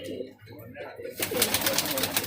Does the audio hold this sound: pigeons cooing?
yes